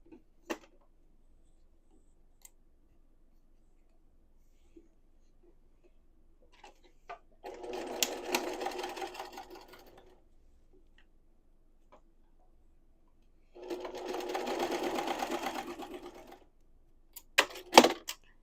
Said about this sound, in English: I like to sew from the zipper side up so that I can kind of feel where those zipper teeth are.